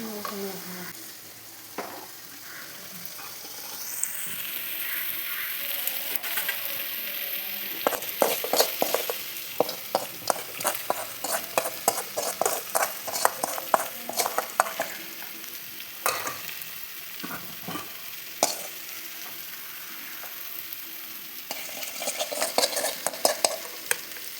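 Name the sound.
stirring cucumber buttermilk curry (pulissery) in a pan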